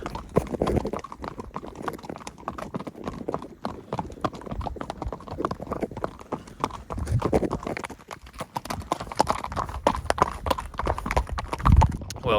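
A horse being ridden along a frosty road in fog, its hooves clip-clopping in a steady walking rhythm, close and loud, with scattered clatter and rustle of tack around it.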